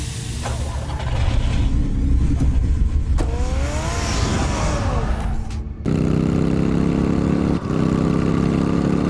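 A car engine in Batman: The Telltale Series revs loudly and pulls away, with a rising acceleration whine, followed by a steady lower drone as it drives on, loud and close throughout.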